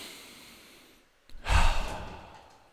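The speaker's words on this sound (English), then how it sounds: "Take a breath, buddy." One person draws a single deep breath, then lets out a loud, close sighing exhale after a brief quiet moment.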